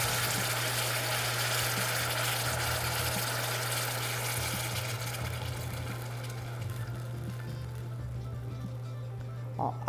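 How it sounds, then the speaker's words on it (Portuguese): Coconut milk is poured into a pan while making vegan low-carb dulce de leche: a steady, fairly faint rushing pour for about five seconds, then quieter with a small clink at the end. "Então eu vou colocar aqui meio litro de leite de coco"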